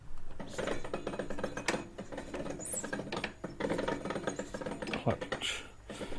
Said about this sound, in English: Clutch making a nice racket.